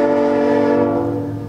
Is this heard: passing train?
yes